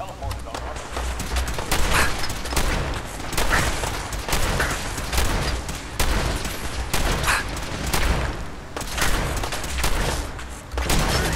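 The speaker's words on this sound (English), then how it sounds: "I might as well just use my shotgun on him" Shotgun blasts in the video game Fallout 4, loud repeated booming shots spaced every second or two amid other gunfire and a steady hum, with someone talking over them.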